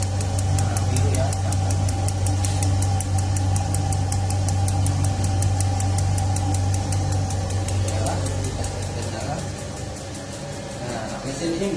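A Diamante gas-converted analog clothes dryer runs with its burner lit, giving off a steady, loud mechanical hum and drone throughout while a person talks over it.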